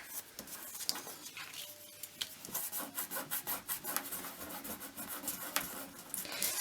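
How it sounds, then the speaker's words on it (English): Excess glue rubbed off paper journal tabs by hand, a close dry brushing scrub in quick repeated strokes, soft and steady with no talking. "Let's just rub that extra bit of glue off."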